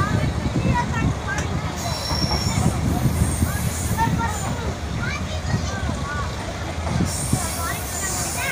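Mohenjo Daro Express train running on the tracks, a steady close rumble of wheels and carriages with rhythmic clatter and occasional squeals throughout, with voices faintly audible under the noise.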